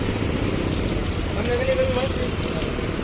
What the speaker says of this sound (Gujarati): અને વરસાદ ચાલુ છે